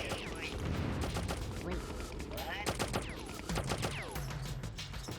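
Gunfire from Slig enemies in the video game Oddworld: Abe's Exoddus, rapid repeated shots and mechanical clatter over dense game sound effects, loud and continuous through the stretch.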